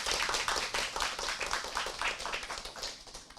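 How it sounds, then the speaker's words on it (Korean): An audience at an academic policy conference session claps in a short, brisk burst of applause, fairly close and alone without talk. "이 타이밍에서 박수 한번."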